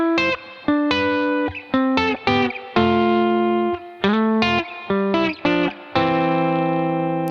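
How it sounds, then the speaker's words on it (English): An electric guitar with distortion and effects plays a descending scale from C in sixes, sounding paired notes one after another, some sliding between, at a moderate, steady pace with ringing sustain and no voices. "if I just play the descending scale from C"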